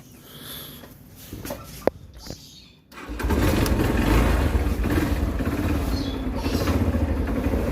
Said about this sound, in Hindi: इस बाइक को करते हैं स्टार्ट।